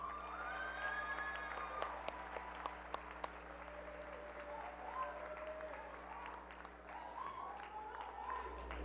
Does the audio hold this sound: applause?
yes